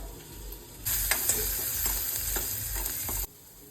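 Cumin, asafoetida, garlic, moong dal and turmeric hit hot oil for a chickpea-leaf bhaji, bursting into a loud, close, hissing sizzle that holds for about two and a half seconds and then cuts off abruptly.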